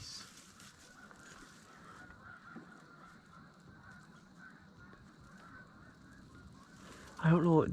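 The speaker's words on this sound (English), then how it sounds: "Geese." Canada geese honk as a flock flies overhead on an early-season goose and dove hunt, faint distant calls running under quiet field noise, then a sudden loud close burst of honking at the end.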